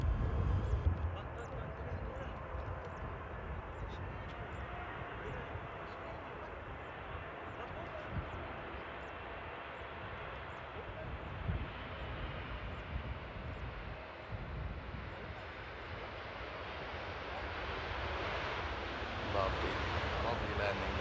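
An airliner landing at Paris Charles de Gaulle airport gives a long, moderately quiet engine roar and rush that holds steady throughout, heard at a distance with faint outdoor ambience.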